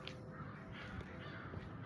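Crows caw outdoors, a few faint calls carried over steady background noise.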